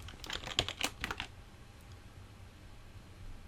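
Close, crisp computer keyboard typing during a Security Onion installation, a rapid run of about ten keystrokes in the first second and a half, followed by quiet room tone.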